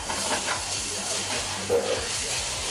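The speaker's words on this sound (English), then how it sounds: "Alright, so now the pan's nice and hot. We're going to drop the salmon in." Salmon hitting a hot pan gives a steady, close hiss of searing that fills the short moment evenly, with faint crackles over it.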